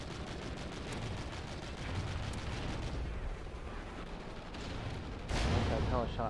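Muffled gunfire and explosive booms in a video game, a steady rumbling barrage heard at moderate distance, with a sharper louder burst near the end and voices mixed in.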